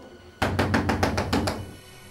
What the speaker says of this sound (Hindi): ललिता, ललिता दरवाजा खोलो।